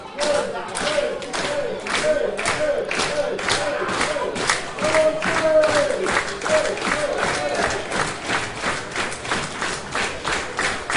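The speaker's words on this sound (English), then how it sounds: "Crowd trying to get behind Mastiff." Wrestling crowd at a title match between Dave Mastiff and Go Shiozaki, rhythmic clapping and chanting in steady bursts, loud and sustained throughout the arena.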